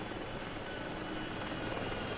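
Aircraft engine in the DCS flight simulator game, a loud, steady broadband roar holding constant and close for about two seconds, with no talking.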